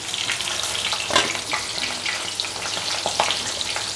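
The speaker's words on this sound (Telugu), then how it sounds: "కొంచెం వేగాలి పన్నీర్" Paneer cubes fry in hot oil in a pan, giving a loud, close, continuous sizzle with occasional sharper crackles and stirring clinks.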